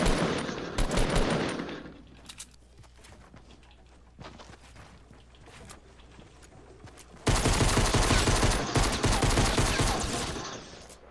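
Rapid automatic gunfire in Fortnite rattles in loud bursts, first a short spray, then quieter scattered shots in the middle, and a long heavy barrage from about seven seconds that tapers off near the end.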